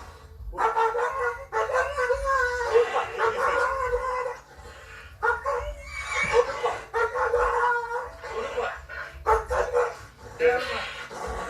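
A police dog barks and howls in a yard compound, with repeated yelping bursts throughout, mixed with people talking nearby.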